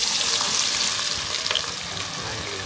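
Small onions fry in a hot pan for beef sukka, giving a steady, dense sizzle with light stirring scrapes, close and continuous with no talk.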